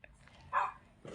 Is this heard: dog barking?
yes